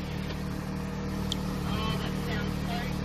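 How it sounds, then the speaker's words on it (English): A sailboat's engine idles steadily while it crosses a bay near Airlie under sail, a low continuous drone mixed with wind and water noise. "I haven't got the engine off though."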